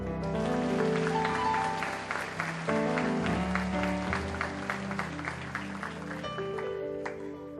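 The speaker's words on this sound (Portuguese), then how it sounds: "Você pode dar um aplauso aí?" Congregation applause during a church service: a lively spatter of many hands clapping over sustained music throughout, fairly loud and continuous.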